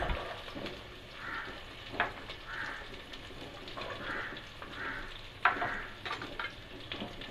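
Potato, carrot and beans sautéing in a pan with onions, a soft steady sizzle broken by a few sharp clinks of the spoon stirring, fairly quiet and close.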